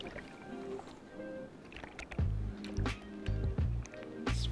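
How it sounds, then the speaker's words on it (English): Surfboard paddled by hand through ocean water, rhythmic splashing strokes that get louder and heavier in the second half, close, mixed with wind and water noise and no clear talking. "Just paddling back out the back."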